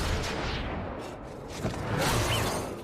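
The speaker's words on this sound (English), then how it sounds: "they shot each other" Sniper rifle fire in an action film sequence, heavy booming shots and whooshing blasts rolling together, loud and close with dense rumbling low end.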